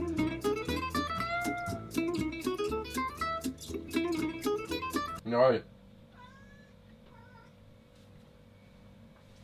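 A cat meows loudly once over a stretch of music, then a few softer meows follow in a quieter room while a person speaks French in the background.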